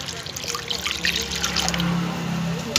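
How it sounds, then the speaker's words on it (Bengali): Water pours steadily into a pan of cooking dal with leafy greens, a continuous close trickle and splash of moderate loudness that runs unbroken with no talk over it. "এবার জল দিয়ে দেবো।"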